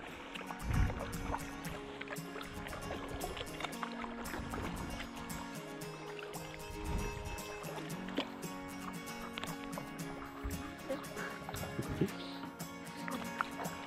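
Paddle strokes and water sloshing from a stand-up paddleboard on open water along a Turkish coastline, soft and close, repeating in an irregular rhythm under steady background sound.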